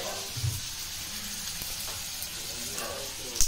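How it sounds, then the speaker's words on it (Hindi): Red chili powder dropped into a hot curd tempering for egg bhurji sizzles and hisses steadily, a close, moderately loud frying texture with a brief sharp crackle near the end. "इसमें मैं थोड़ी सी रंग वाली मिर्च डालूंगी।"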